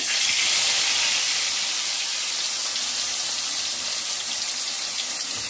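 Marinated fish pieces deep frying in heated oil, giving a steady, loud, bright hiss that runs without a break and with no voices.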